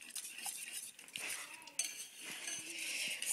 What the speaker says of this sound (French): Faut pas arrêter de tourner dans ces conditions-là